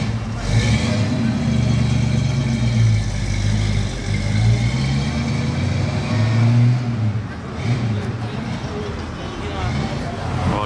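A classic or collector car's engine revs and idles at an Artcurial auction in Paris, a throaty mid-range rumble partly buried under nearby talking and crowd chatter.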